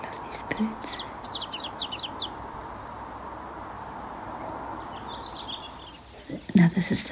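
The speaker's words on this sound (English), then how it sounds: "Now this is the brown-headed cowbird again." Brown-headed cowbird calling outdoors in spring in Vancouver, British Columbia: a quick series of high, thin whistled chirps and liquid gurgles early on, then a lone thin slurred whistle, over a steady background hum, with brief handling noise at the end.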